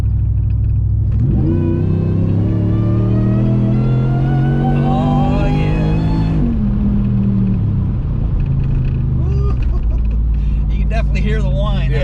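A Whipple-supercharged Ram truck with a Hemi V8 accelerates hard, its deep engine roar climbing in pitch under a rising supercharger whine for several seconds before easing off. A brief spoken word is heard.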